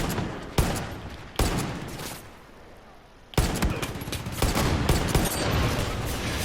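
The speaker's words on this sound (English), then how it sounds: "So we will now start fire at will." Gunfire in a Far Cry 5 video game firefight: sharp loud shots and bursts crack in clusters, a brief quieter lull, then dense continuous rapid fire near and far.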